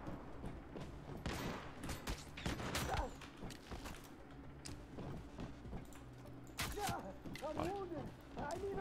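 Machine gun fire in Once Human rattles off in short irregular bursts, mixed with mechanical clanks and game effects, while someone talks over it in Spanish throughout.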